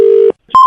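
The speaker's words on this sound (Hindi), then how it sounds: "एक बार फिर मिलाता हूँ" Dialing a telephone number produces two short, loud electronic tones in quick succession, a lower one and then a higher one, separated by a brief silence.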